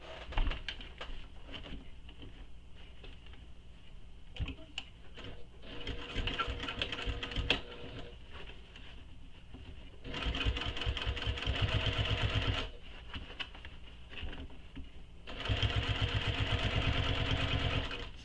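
A sewing machine top-stitches around the edge of a sling pack, running in bursts of steady rapid needle clatter that stop and restart several times, loud and close with no voices.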